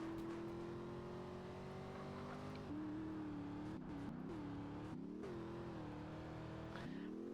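In Grand Theft Auto: San Andreas, a car engine drones steadily, its pitch dipping and rising with gear changes and throttle, over constant road noise at low volume.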